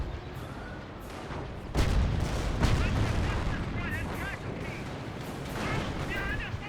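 Artillery fire in a wargame, rendered as loud booming shots with a sharp onset near two seconds, then a continuous rumbling barrage with faint chirping effects.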